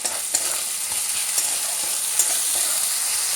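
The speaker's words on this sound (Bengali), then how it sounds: "পেঁয়াজটা ভাজতে ভাজতে দিয়ে দেব টমেটো" Onions and tomatoes fry in a pan with a loud, continuous hiss, broken by a few sharp utensil taps and scrapes, and no speech.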